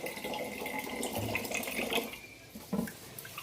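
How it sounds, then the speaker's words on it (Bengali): Tap water runs into a sink as food is washed, a steady, moderately quiet splashing flow with a few sharper splashes and clinks toward the end and no talk. "অনেক বার করে ধোবো যতক্ষণ না সাদা জল বেরোয়"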